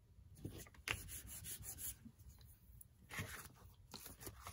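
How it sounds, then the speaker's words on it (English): Paper is trimmed for a collage, soft scraping and rustling with a few crisp snips and crunches, quiet and close, with no voices. "I am going to show you after I trim this."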